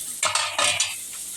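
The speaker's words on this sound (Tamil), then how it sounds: "நல்லா கொதிச்சிருச்சு பாருங்க இப்போ நம்ம மீன் போட்டுடலாம்" Vaazhai fish going into a boiling tamarind curry and being stirred, with several close clinks and scrapes of a utensil against the pot over a steady bubbling sizzle.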